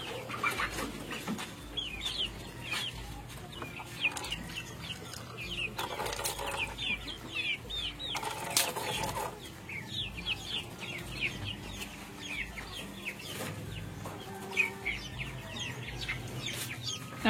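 Brahma chickens cluck and murmur busily at feeding time, many close birds overlapping in a continuous chorus of short calls, with occasional louder squawks and wing flutters.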